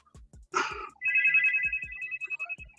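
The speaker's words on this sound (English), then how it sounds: "I just gotta find which phone is ringing" A telephone ringtone sounds during an interview, with a repeating bright electronic ringing melody that plays steadily for about two seconds, loud and close, alongside a few faint knocks and a short burst of voice-like noise.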